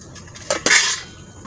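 A metal lid settles onto a cooking pot, a brief close clatter with a quick double clink and a short ringing tail, alone in a quiet kitchen.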